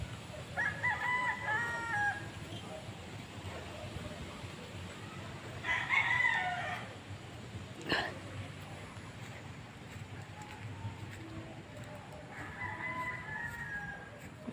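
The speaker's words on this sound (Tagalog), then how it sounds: "Manok." A rooster crows faintly in the distance a few times on a farm, with some clucking, over low background rumble.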